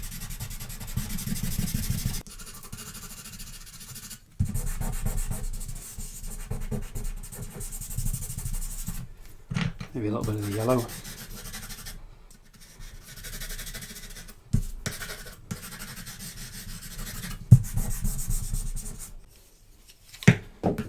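A pastel pencil rubs and scratches across paper in repeated close strokes, a dry scraping texture that comes in bursts with short pauses, while a voice speaks briefly.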